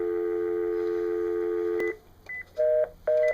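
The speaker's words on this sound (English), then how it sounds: "I can't even dial right. I'm so nervous." A telephone number is dialed: a steady dial tone holds, then cuts off, followed by several short touch-tone beeps pressed one after another, loud and close with no talking.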